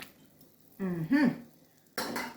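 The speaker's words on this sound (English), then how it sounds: "So we're going to cover this now and leave this to simmer." Lid clattering onto a pot of Jamaican brown stew chicken, with a short metallic ring and a second clank near the end over a soft simmer.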